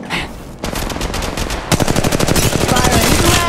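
Automatic gunfire in Apex Legends Mobile, a short burst followed by sustained rapid rattling shots, loud and close, continuing steadily after a brief pause.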